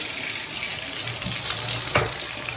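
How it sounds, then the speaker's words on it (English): Bathtub faucet in a duplex unit running hot and cold water, a steady close gush of water into the tub with slight surges, no talk heard. "you can see the bathtub works. We've got hot and cold water."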